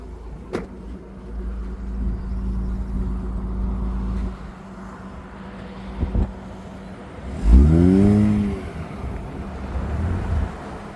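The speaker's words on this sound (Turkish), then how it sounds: "Araba geri geri açıyor." A Mazda RX8 idles with a low rumble, then its rotary engine revs up and down in a loud, rising and falling sweep as the car reverses and pulls forward outdoors, with no talking.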